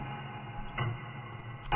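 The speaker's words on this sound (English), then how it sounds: "That ticking is loud." A clock ticks steadily in the horror game Spooky's Jumpscare Mansion, a loud, even rhythm over a low ambient drone with a couple of brief bumps and no talking.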